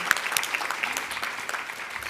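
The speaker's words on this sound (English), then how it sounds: "let's just give them a round of applause for being here today" Audience at an education panel event applauding, a steady patter of many hands clapping at moderate distance, fairly quiet and brief.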